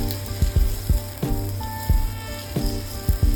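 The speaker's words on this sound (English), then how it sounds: "my garlic in here with my red and yellow bell peppers. I'm going to now put in my mushrooms. We're just going to saute this." Garlic, red and yellow bell peppers and mushrooms sautéing in a pan: a loud, close sizzle with repeated scraping stirs roughly every half second, no talking.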